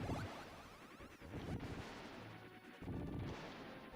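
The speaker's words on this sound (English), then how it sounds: "the explosions here, good sounds" Explosions from a Super Nintendo video game come as a string of quiet, booming bursts with short gaps between them, like artillery blasts heard faintly in the background.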